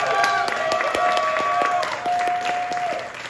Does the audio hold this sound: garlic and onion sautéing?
no